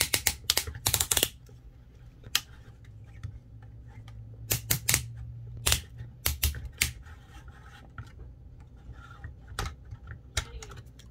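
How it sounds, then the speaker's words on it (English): Tight ratchet joints on a Transformers Siege Jetfire toy click and snap in loud, close, irregular bursts and clusters, separated by quiet handling noise. "he has very loud and tight ratchets"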